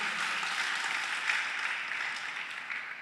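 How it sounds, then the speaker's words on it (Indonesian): Steady crowd applause at a church worship celebration, a broad wash of many hands clapping at moderate distance, continuous and even for the whole stretch. "Yang percaya berikan tepuk tangan buat nama Tuhan"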